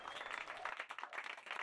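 Applause from a debate audience closing a formal debate on AI regulation, a faint, dense patter of many hands clapping steadily through the short stretch.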